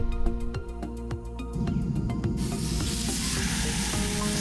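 Pork searing in a Dutch oven over coals, with rapid clicking taps at first, then a loud, dense sizzle that swells and holds steady close by.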